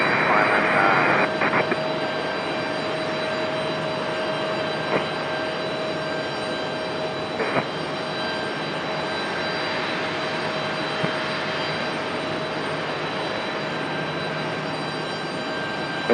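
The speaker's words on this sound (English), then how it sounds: "Is this a 767? It is." A Boeing 767 jet airliner arriving from Ontario at Raleigh-Durham airport gives a steady, broad roar throughout, with a constant tone above it and faint voices under the noise.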